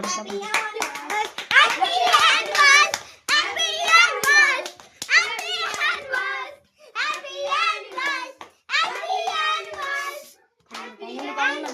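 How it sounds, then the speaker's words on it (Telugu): Hand clapping taps through a home scene while children chatter almost constantly over it, the claps light and scattered beneath the voices. "చప్పట్లు"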